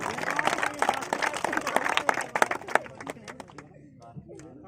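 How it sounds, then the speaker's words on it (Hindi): Dense applause from a crowd at a cricket tournament prize ceremony, greeting the chief guest, rising in a thick burst and then thinning to a few scattered claps near the end. "जोरदार तालियां हमारे मुख्य अतिथि महोदय के लिए होनी चाहिए"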